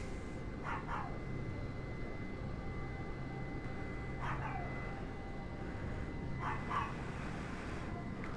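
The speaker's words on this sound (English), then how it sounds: "Hang on, the dogs are going to go nuts." Dogs bark in short bursts three times, one of them a dog named Chester, over a steady low background hum; each outburst is brief and moderately close.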